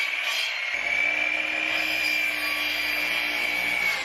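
A power tool whirs steadily while cutting plastic pipe, a continuous high-pitched drone with a low hum joining in after a moment, close and loud with no talking.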